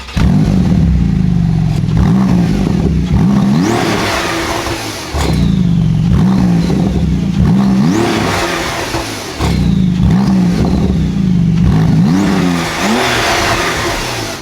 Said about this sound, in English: You can definitely hear the turbo spooling up in that one.